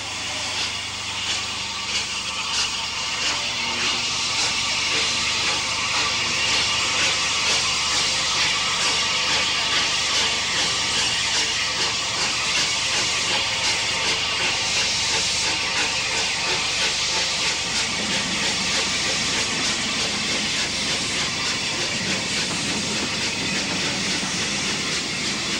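Steam locomotive 73029 rushes past toward London hauling a mixed rake of coaches, a loud sustained hissing, chuffing roar with rhythmic wheel beats throughout, close by and alone.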